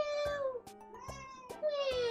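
A cat meows several times with high, drawn-out cries, close and fairly loud, while people chat around it.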